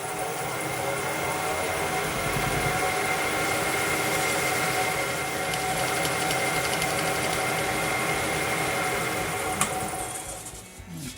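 A wood lathe spins up to about 1,000 RPM while a wooden pepper mill is buffed, giving a continuous even motor whir with faint tonal hum, steady and close, fading near the end.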